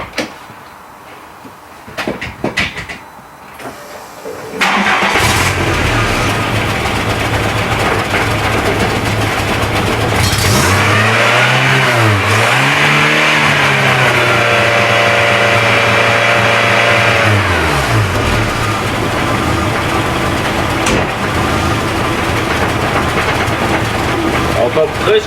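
A Volkswagen Golf 1 GLI Karmann engine cranks and catches, then settles into a loud, sustained idle with a couple of rising and falling revs in the middle; no talking over it.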